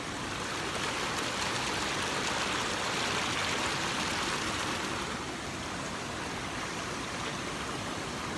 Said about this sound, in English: As you can hear the water.